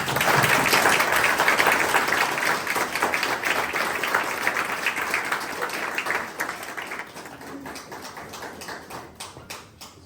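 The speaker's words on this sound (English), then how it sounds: "Please join me in congratulating these cadets on earning the Curry Award and their subsequent promotion to Cadet Airman with a round of applause." Applause from an audience at a Civil Air Patrol charter ceremony for newly promoted cadets in Flagler County, a sustained crowd clapping that holds steady, then thins out toward the end into scattered claps.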